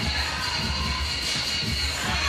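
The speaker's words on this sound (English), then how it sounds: "And you hear the roar of the crowd." Crowd roaring at a 3x3 basketball game at the FIBA 3x3 World Cup 2022: a steady, dense wash of cheering and shouting fills the arena throughout, with no clear speech on top.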